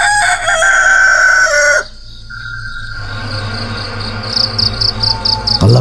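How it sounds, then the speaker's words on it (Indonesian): Roosters crow loudly back and forth at dawn, one long call answering another, over a steady chorus of chirping insects. "terdengar suara kokok ayam bersautan"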